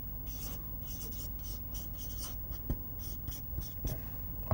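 A pen writes on paper in close, scratchy strokes, with short bursts of rasping and small taps between words, with no talking.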